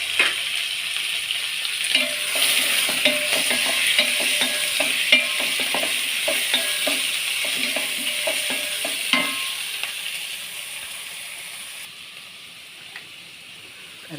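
Onion, beans, green chilli, tomato and ginger frying together in a pan, with a loud steady sizzle and rapid stirring scrapes for about nine seconds, then a quieter fading hiss.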